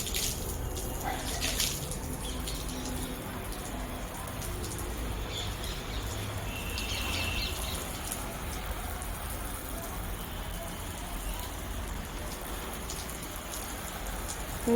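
Water sprinkles down steadily from above onto freshly planted vegetables in a home garden, a soft continuous pattering hiss that lasts throughout at low level, with faint birdsong in the background.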